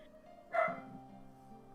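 A dog gives a single fairly loud bark, with a steady low hum behind it and a short faint sound at the end.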